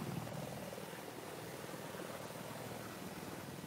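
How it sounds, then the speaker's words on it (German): A small helicopter in the video game Battlefield 4 drones with a steady, continuous rotor and engine roar, fairly distant and even, heard without talk. "Ein kleiner Heli."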